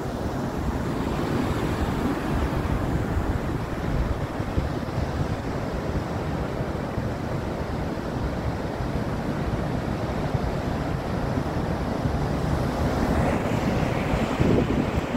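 Atlantic Ocean surf on a northern Portugal beach, a continuous broad roar of breaking waves heavily mixed with wind buffeting the microphone, steady and loud throughout with no talk.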